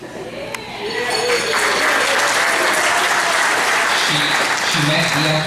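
Loud, sustained audience applause at a tribute during an event, rising within the first second and holding steady, with crowd murmur and scattered voices mixed into the clapping.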